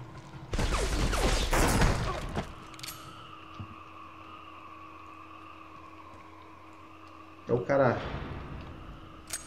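Two bursts of PS2 game gunfire from Black, one long rattling volley and a shorter one later, separated by a steady electronic hum, with talking in the background.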